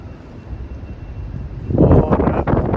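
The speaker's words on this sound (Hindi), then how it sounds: "कितनी तेज हवा चल रही है।" Strong wind blowing outdoors, where dry trees sway hard: a steady low rumble that builds into loud, blustery buffeting gusts against the microphone in the last second.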